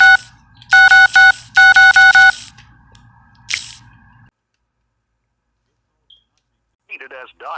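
Loud, close touch-tone telephone dialing: two quick bursts of several bright DTMF beeps each, followed by a brief sharp click, then near silence and a short burst of talk at the end.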